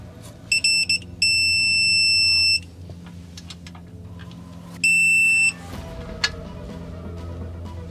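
A digital torque wrench, set to 25 foot-pounds for an oil change on a Nissan NV3500 van with a 5.6L V8, gives loud electronic beeps: a few short pulses followed by two sustained tones, with faint clicks in between.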